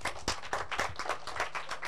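Classroom children clapping for a classmate who answered correctly, a quick, faint patter of small hands with a few sharper claps, close and brief.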